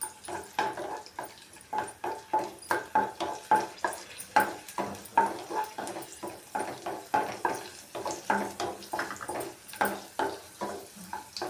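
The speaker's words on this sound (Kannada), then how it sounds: "ಹಾಗೆ ದ್ರಾಕ್ಷಿ ಕೂಡ ಫ್ರೈ ಮಾಡ್ಕೊತಾ ಇದ್ದೀನಿ." Raisins fry in a pan for mango kesaribath, with a soft sizzle under a quick, even rhythm of stirring scrapes repeating about twice a second, close and moderately loud.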